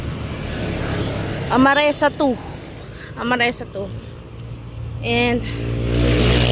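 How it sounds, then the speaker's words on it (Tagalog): Cars and motorcycles rush past at speed along a roadside near Cornerstone School in the Muson area of Loma de Gato, a steady traffic rumble that swells toward the end beneath someone talking while he walks. "Ang bibilis mga sasakyan dito. Ang bibilis ng motor."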